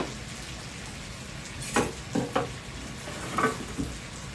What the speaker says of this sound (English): we're just going to dump the beef in there. You can hear how it starts to sizzle.